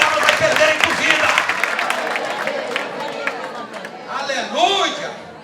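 Church congregation applauding during a worship service, a steady wash of clapping mixed with voices and chatter, with a preacher's voice rising over the crowd.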